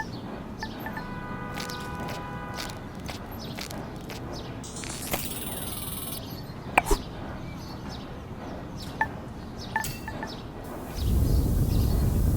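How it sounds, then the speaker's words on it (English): A bustling city morning from the video game Golf Club Wasteland, with scattered birds chirping and tweeting over a constant low traffic rumble, a few sharp clicks, and the background swelling louder near the end. "Sound of the bustling city in the morning, a call and response of cars and birds."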